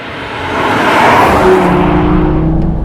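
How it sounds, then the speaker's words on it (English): A 2020 Audi TT RS with a turbocharged five-cylinder engine and particulate filter accelerates hard, its loud, steady engine note building and holding close by for nearly three seconds without any speech. "then the turbo comes on, and it really goes"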